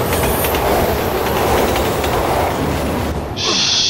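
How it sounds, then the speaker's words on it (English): Train rolling past in the video game Resident Evil 6, a loud, steady rumble with rail clatter filling the whole stretch, easing slightly near the end as a high tone cuts in. "There's a train."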